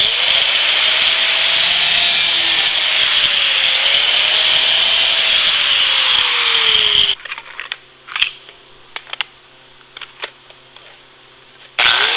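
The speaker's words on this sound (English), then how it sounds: "I'm gonna cut that off and then hit it with the buffing wheel" Power tool cutting then buffing an irrigation valve part: a loud, steady high whine with a wavering pitch for about seven seconds, stopping abruptly, followed by quieter scattered clicks and handling knocks.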